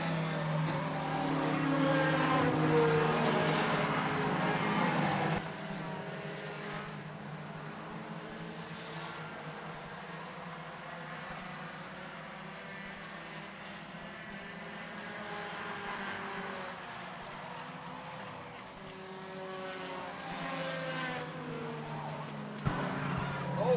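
Race cars at Sweatt's Concrete Thunder roar around the track partway through a 30-lap race. The engine noise is loud at first, then settles into a steady distant drone, with a commentator's voice faint beneath it.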